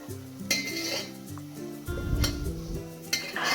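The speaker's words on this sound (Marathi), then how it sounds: "हे पण आपल्याला तेलामध्ये व्यवस्थित असं परतून घ्यायचं आहे" A metal spatula scrapes and clinks against a pot while spices are sautéed in oil for a spicy Maharashtrian bazaar amti, with sharp intermittent knocks over a soft sizzle and low hum.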